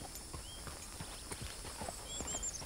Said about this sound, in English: it's a beautiful horse right there